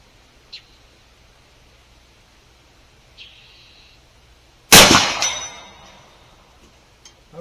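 A Hatsan Pile Driver big-bore air rifle fires a heavy lead slug at a target 80 yards away: faint clicks, then one loud sharp blast that decays over about a second, with a distant tap after.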